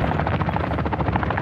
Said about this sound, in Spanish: Mira el helicóptero camuflajeado.